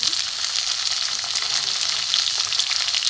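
Onions sizzle in a hot pan with garlic while a Bengali fish and taro curry is cooked, giving a continuous close, crackling hiss of frying with faint stirring, no voices.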